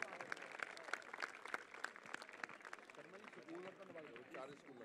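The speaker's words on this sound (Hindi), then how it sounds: "जोरदार तालियां मैम के लिए" Applause from the audience at a cultural evening of the International Gita Mahotsav, spread across the clip as steady crowd clapping under a talking voice, with the clapping giving way to speech toward the end.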